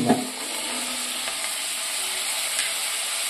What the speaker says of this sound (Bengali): এবার একটু নাড়াচাড়া করে নেব। তেলের মধ্যে ভালো করে নাড়াচাড়া করে নেব।